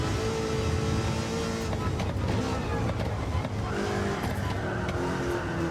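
Roadster Shop Road Rage Camaro engine in a racing video game, a loud continuous roar with shifting pitch as the car works through a difficult corner of the circuit.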